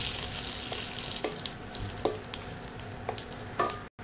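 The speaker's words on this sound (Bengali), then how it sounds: "এবার এই তেলে 5 ফোড়ন, তেজপাতা ফোড়ন দিয়ে দিলাম।" Five-spice seeds and bay leaf tempering in hot oil, a steady crackling sizzle with scattered pops and a few spatula taps, close and fairly quiet.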